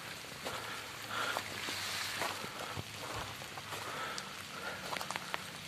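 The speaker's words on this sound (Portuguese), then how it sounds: "E a chuva começou a chegar." Steady rain falls through a forest, a soft broadband hiss with scattered louder drops and patters, fairly close and continuous with no talk.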